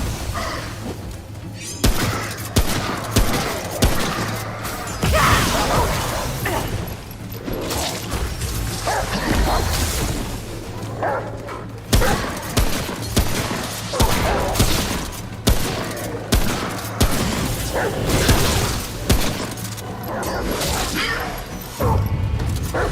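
Sustained gunfire in the shooter video game Remnant: From the Ashes, dense rapid shots and crashes running continuously and loud throughout, with game effects layered in.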